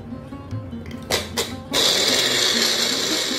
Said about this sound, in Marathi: आता हे मिक्सरमध्ये मी सगळं चटणी वाटून घेते बारीक